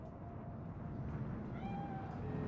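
A cat meows faintly in Cyberpunk 2077, a thin drawn-out cry rising over a steady bed of game ambience and music.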